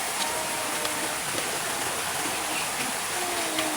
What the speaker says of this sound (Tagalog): Ulan na dito yan